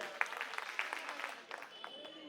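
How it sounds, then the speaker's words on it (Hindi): Crowd clapping at an Aam Aadmi Party election rally in Dwarka, a dense patter of many hands with a few sharper bursts, steady and moderately loud throughout. "इनके लिए जोरदार तालियां बजा दीजिए"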